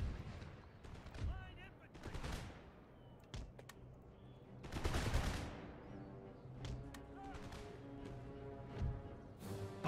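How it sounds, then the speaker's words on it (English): Infantry musket volleys in Empire Total War, fired along a defensive line: a series of sharp, crackling bursts with ragged rolling clusters, some louder and nearer, at moderate volume with a faint voice now and then. "Infantry reporting. Let's fire along our line."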